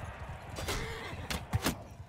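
A horse in the video game Mount & Blade II: Bannerlord gives a short whinny with a few quick hoof-like thumps, moderately loud against a busy game background.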